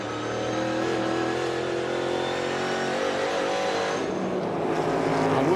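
NASCAR Cup Series stock cars racing at North Wilkesboro in the 2023 All-Star Race, a loud continuous engine roar with revving and cars blending together as they pass.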